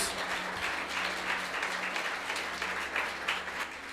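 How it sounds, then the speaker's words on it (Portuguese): Church congregation applauding during a Portuguese-language sermon: steady, continuous clapping from a large group, fairly faint and distant, holding at an even level throughout. "Por isso, pode aplaudir mais forte, é para Jesus."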